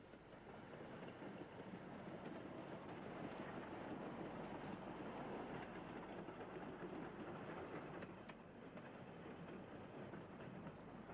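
A train passes at a distance through Minforth, England, heading for sidings: a steady broad rumble with faint clicking of wheels and some wind buffeting, fairly quiet overall.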